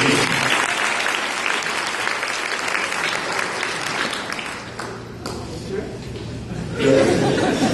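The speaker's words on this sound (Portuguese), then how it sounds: "Uma salva de palmas para Jonas de Nínive" Audience applause for a performer announced on stage, loud continuous clapping with some chuckling and chatter, easing off midway before a voice starts talking near the end.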